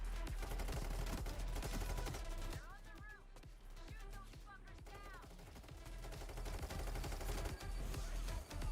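Gunfire in Payday 3, rapid bursts of shots crackling throughout at moderate level, with a brief lull in the middle as a voice talks over part of it.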